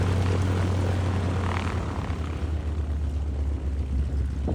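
A 1930s Beechcraft Model 17 Staggerwing biplane's radial propeller engine drones steadily and loud throughout, a deep continuous rumble with a faint swell partway through and no speech.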